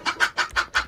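A chicken in a GTA roleplay video game clucks five times in quick, evenly spaced pulses, close and clear with no talk over it.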